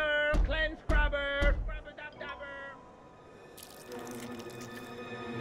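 Water in a shower in a cartoon, heard as a few loud, close, resonant drips followed by a softer steady trickle and faint splashing, with no talk.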